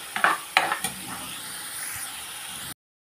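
A ground onion, garlic and coconut masala is roasted in a pan, with a steady close sizzle and a few sharp stirring scrapes near the start. The sizzle then continues alone until it cuts to silence.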